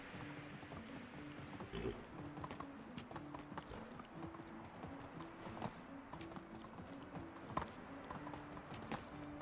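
Horse hooves clip-clop steadily in the Medieval Dynasty game, a regular walking rhythm of close, moderately loud hoofbeats over low background music, with no talking.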